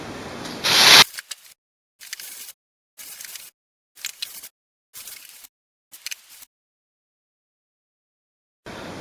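An HP Color LaserJet Pro MFP M283fdw printer being pulled out of its plastic packaging: a loud rustle of plastic, then six short bursts of crinkling and scraping separated by brief silences, with no talking.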